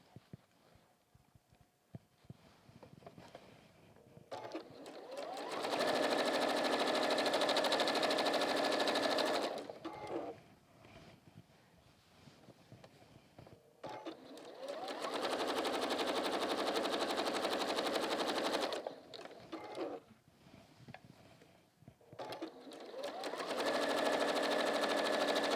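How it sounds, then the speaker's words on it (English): Sewing machine chain piecing fabric pieces for a quilt-style project, running in three long steady bursts of rapid stitching separated by short pauses with fabric handling sounds, close and loud. "I'm going to come round and, like I say, chain piece on these."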